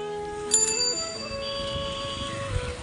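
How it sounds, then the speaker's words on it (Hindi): A bicycle bell rings on a village street in India, a bright metallic ding with a long ringing decay that fades under low background noise. "घंटी बजाते हुए।"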